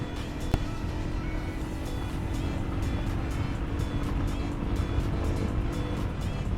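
A 2017 Suzuki Gixxer SF motorcycle engine roars steadily under a sustained rev while riding, a loud continuous drone with rhythmic pulses and wind rush, close to the listener, with no voices.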